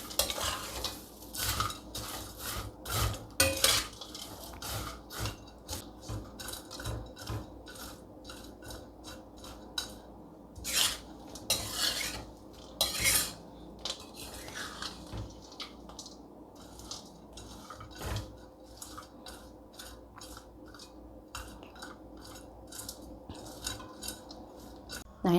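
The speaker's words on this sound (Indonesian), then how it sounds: "Itu tinggal dicampur-campur." Teri anchovies, peanuts and palm sugar are stirred together in a pan with the heat off, giving a steady run of scraping, clinking utensil strokes and light rustling for the whole stretch, close and busy with no talk.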